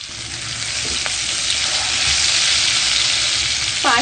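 Boiled potatoes fry in a kadhai for a spicy garlic potato dish, a loud, dense, continuous sizzle close up, with a faint scrape of stirring and no talking.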